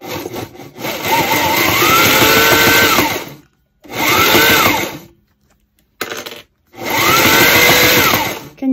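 An embroidery sewing machine stitches a fringed ammo bag, running in three loud steady bursts with short pauses between, a dense mechanical whir throughout.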